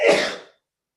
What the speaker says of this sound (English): Was that you sneezing, Sokuzan? That was quite a sneeze.